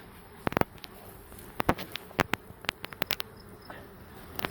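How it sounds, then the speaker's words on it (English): Honey bees at an opened summer hive, a faint insect hum broken by frequent sharp clicks and taps of handling close by. "the bees here today are nice and gentle"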